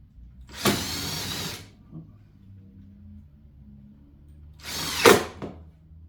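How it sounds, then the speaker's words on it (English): A power drill drives two screws down to hold carpet tight against the side of an edge stand, two separate whirring bursts, near and fairly loud, with quiet between them. "I'm just putting 2 screws down here to keep that carpet tight to the side."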